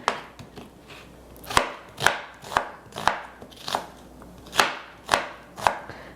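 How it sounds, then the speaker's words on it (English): A knife chops an onion for chicken soup on a board, with about ten sharp, close thuds landing at a fairly regular unhurried pace, softer blade noises between them and no talk. "I don't really have to chop the onion too fine or anything"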